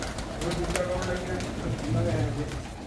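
Pigeons belonging to a pigeon keeper coo softly in the background while someone talks over them, the low calls half buried under his voice.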